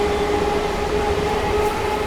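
Interior of a Dankuni local on the Barddhaman–Howrah chord line: a steady, loud rumble of the moving train with a sustained tonal whine, continuous and even throughout, no voices.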